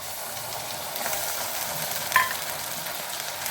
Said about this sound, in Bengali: পেঁয়াজটা একটু লাল রং ধরেছে, এই সময় আমি আদা বাটাটা দিয়ে দিচ্ছি